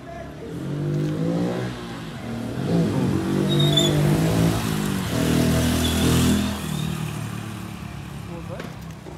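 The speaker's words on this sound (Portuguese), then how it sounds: "Olha a moto, olha a moto." Motorcycle engines rev repeatedly in loud, rising and falling bursts, their buzzing roar swelling and fading over several seconds.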